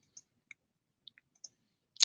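Computer keyboard being typed on, a handful of soft, scattered key clicks in a quiet room, irregular and faint, ending in a slightly louder tap.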